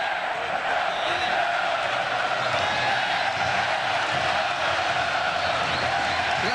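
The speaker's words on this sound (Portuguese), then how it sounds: "Vamos ouvir a festa tricolor." Fluminense supporters fill a stadium after a Carioca championship final win, producing a continuous loud roar of cheering and chanting that holds steady throughout without pause.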